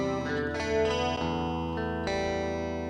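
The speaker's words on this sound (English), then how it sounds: "So what you're hearing is the dry guitar." Clean electric guitar with no effects, playing sustained chords and notes from the intro of a song, steady and fairly loud, with no other sounds around it.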